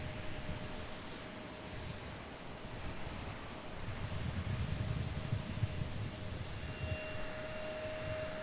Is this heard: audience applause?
no